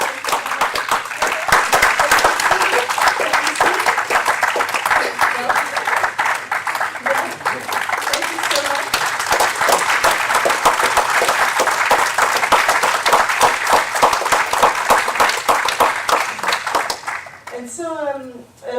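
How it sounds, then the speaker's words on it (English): Audience at an academic conference giving a long, loud, dense round of applause that holds steady for about seventeen seconds before stopping abruptly, followed by a brief bit of nearby talking. "we should really give them a huge applause"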